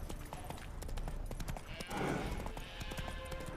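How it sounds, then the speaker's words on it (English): Roach, the horse from The Witcher 3, clip-clops with steady hoof falls and a brief snort or whinny near the two-second mark, over a game soundscape that stays fairly loud throughout. "Spooking my horse. Roach doesn't like ghosts."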